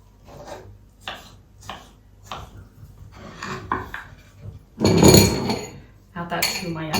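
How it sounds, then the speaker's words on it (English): A knife slices through a Spreewald pickle on a board, a series of short scraping cuts and clinks up close, building to a louder, longer crunching rasp midway before a few more strokes. "Maybe I'll just cut the pickle."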